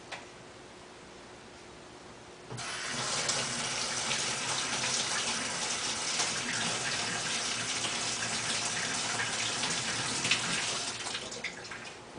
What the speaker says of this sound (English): The glue is water soluble, so you can clean your brush with just plain water.